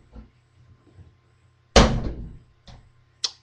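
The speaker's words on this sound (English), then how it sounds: "I shut a door." A door shut indoors with a single loud thud and rattle that decays over half a second, followed by a couple of softer knocks and clicks in an otherwise quiet room.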